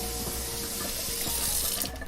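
Water runs steadily into a kitchen sink in a tiny house, turned on with foot pedals instead of a tap, a constant close splashing hiss that cuts off near the end.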